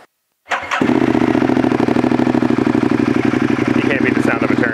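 Ducati Monster 1200S motorcycle with a Termignoni exhaust fires up after a brief silence and settles into a loud, steady, close-up lumpy idle that continues to the end.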